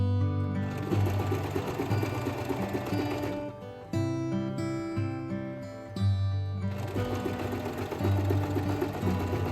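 A sewing machine quilts fabric pieces in steady, close, loud runs of stitching, pausing briefly around the four- and six-second marks before running on again.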